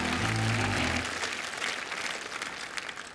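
Studio audience applause at a Ukrainian comedy sketch show, steady clapping that begins under a short low musical sting and carries on alone after it stops.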